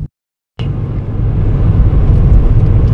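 A car being driven: after a brief silence, a steady, close engine and road rumble rises and holds loud and continuous.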